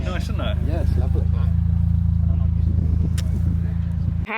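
An Abarth car's exhaust gives a deep, steady, loud burble up close at a car enthusiasts' party, holding an even low rumble throughout while people talk over it.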